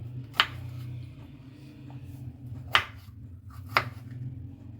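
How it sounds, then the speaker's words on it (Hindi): Bell pepper being cut on a board for a salad, three sharp separate knife chops spaced apart, close by over a low background hum. "शिमला मिर्च, इसकी भी हम कटिंग करेंगे"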